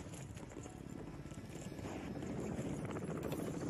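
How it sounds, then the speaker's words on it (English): A helicopter hovers right overhead in the Call of Duty Warzone video game, a low rumbling rotor drone that holds steady and grows slightly louder toward the end, with no talk. "Shoot the helicopter, Neo, right above us."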